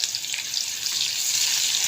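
Chopped onions sizzle in hot oil in a pan, a bright, continuous hiss of frying close by, steady throughout with no talking.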